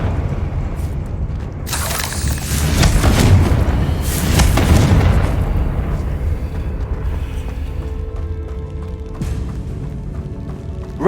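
Repeated heavy booming blasts from the Confringo fire spell in Hogwarts Legacy, rolling explosions swelling to a loud peak in the middle and then fading into a rumbling tail, with no talk.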